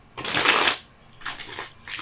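Tarot cards being shuffled at close range, one riffling burst followed by two shorter shuffles, crisp and clear without speech.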